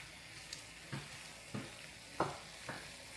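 Food being sautéed and stirred in a pan at home, a soft steady sizzle broken by several sharp scrapes of a utensil at roughly half-second intervals, quiet and close.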